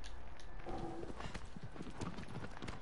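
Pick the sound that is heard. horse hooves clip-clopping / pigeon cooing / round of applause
horse hooves clip-clopping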